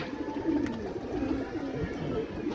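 Pigeons coo in a loose, overlapping series close by, a steady low murmur of calls filling the whole stretch with no voices over it.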